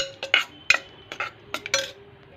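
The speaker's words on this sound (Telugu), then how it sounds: "పప్పుని ఇలా ఉడికించుకున్న తర్వాత పప్పు టమాటా 2 కలిసిలాగా ఒకసారి గరిటతో ఇలా కలిపేసుకోవాలి." A ladle stirring cooked dal and tomato together in a pot, with several short scraping and clinking strokes against the metal at an uneven rhythm, close up and fairly quiet.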